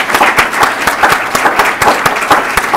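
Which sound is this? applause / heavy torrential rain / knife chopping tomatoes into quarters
applause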